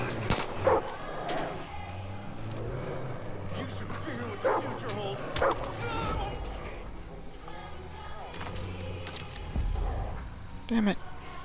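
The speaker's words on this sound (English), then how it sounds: "You're gonna stop shooting my dog." Dog barks, yips and whimpers in the video game Far Cry 5 during a gunfight, heard in short bursts among game effects and speech throughout.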